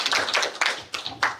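An audience at an academic talk on AI and tourism claps in a short, uneven burst of separate hand claps that start strong and thin out.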